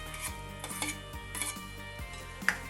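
A spoon scrapes and stirs through mashed potato onion curry in a pan, giving soft rhythmic scraping strokes against the metal with a faint sizzle underneath and a small clink near the end.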